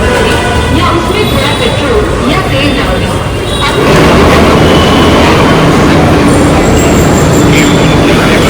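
A metro train rumbles loudly through a station, its roar swelling as it pulls in, with a voice briefly audible over the noise.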